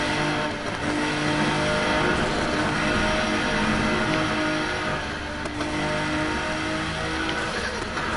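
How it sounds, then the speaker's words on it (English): Mazda RX7 turbo engine in NFS Heat during midnight street racing, a loud, steady car engine drone with revving and turbo whine, sustained throughout without pauses. "And hear that turbo?"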